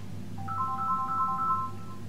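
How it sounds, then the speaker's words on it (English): A phone ringtone chimes in a quick repeating pattern of bright electronic tones lasting about a second and a half, moderately loud over a low steady room hum, with no voices. "Hang on, phone's going."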